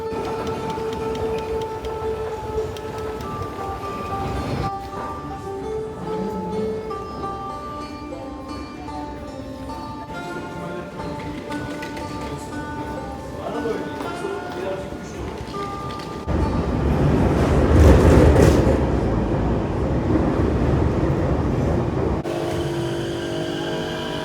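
A subway train rumbles and hums, with tonal whines and squeals from the wheels, growing louder and heavier toward the end, heard from a station with escalators.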